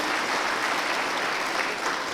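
An audience at a Kannada public lecture breaks into dense, continuous clapping, a steady, fairly loud wash of applause with no pauses.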